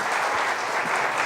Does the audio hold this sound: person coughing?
no